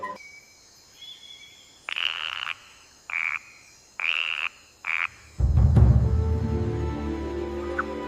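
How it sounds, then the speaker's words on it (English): Yellow-banded poison dart frog calling in Amazon rainforest habitat: four short, buzzy trilled bursts, each about half a second, evenly spaced and clear, then a loud rumbling broadband noise takes over near the end. "The yellow-banded dart frog."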